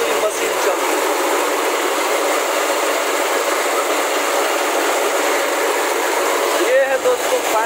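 A 50 HP engine driving a mustard oil expeller machine, a loud continuous mechanical drone with a rough, even texture that holds steady throughout, with a voice talking over it.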